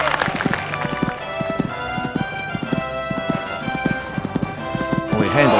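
A horse's hooves gallop during show jumping, a fast, steady rhythm of close thuds on the ground, with a faint voice in the background.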